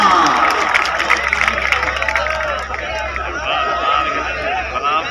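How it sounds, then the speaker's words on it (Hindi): A stadium crowd at Dhup Stadium in Dera applauds and cheers for Sardar Abrar Khan, a dense, steady roar of clapping and shouting voices that dips briefly midway before swelling again. "भाई का जोरदार तालियां।"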